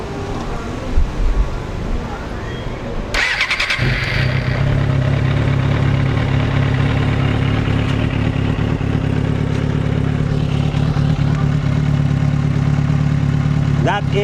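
A 2008 Suzuki GSR400 street motorcycle engine fires up after a brief cranking burst and settles into a steady, loud, even idle that holds close by for the rest of the span.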